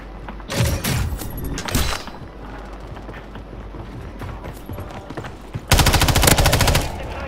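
Gunfire in a shooter video game, with sharp cracking shots early on and a later sustained rapid burst of automatic fire, loud and close, in a chaotic firefight.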